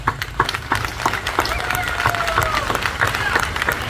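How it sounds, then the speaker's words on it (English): Scattered crowd clapping at a press conference outside the Freestone County Courthouse, distinct individual claps over a murmur of voices, steady and moderately close throughout. "would you clap with me?"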